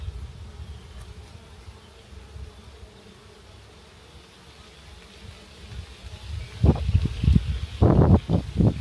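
Honey bees buzz around an open hive during a full apiary inspection, a steady faint drone at first, then several close, louder bursts as bees fly near in the last seconds.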